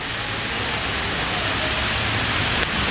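A dammed river channel in the city of Nîmes, France, gives a steady, dense rush of flowing water, like a weir or small waterfall, that stays constant and fills the whole stretch with no voices.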